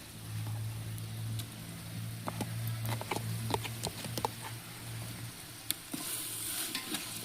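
Ginger garlic paste, a quarter kilo, sautéing in a large pot for a white biryani cooked for thirty people, with a steady sizzle and scattered stirring scrapes and clinks over a low background hum.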